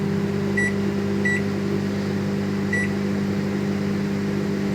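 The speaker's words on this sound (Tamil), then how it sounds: "இப்போ வந்து ஓவன் செட் பண்ணி நம்ம உள்ளே வச்சிடலாம். ஓவன் ஆன் பண்ணிக்கலாம்." A microwave oven hums steadily while baking an Oreo cupcake, with three short electronic beeps near the start sounding over the constant drone.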